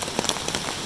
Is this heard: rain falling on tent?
yes